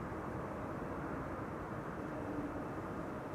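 A Bombardier CRJ regional jet arrives at Amsterdam Schiphol in a right crosswind, its engines giving a steady, broad roar that stays level throughout, with no voices.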